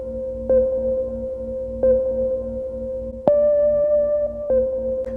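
A sampled guitar and Rhodes pad, pitched down and sequenced on an Akai MPC, repeats as a slow rhythm of sustained chord stabs, the fourth hit stepping up to a brighter, higher note, with nothing else heard.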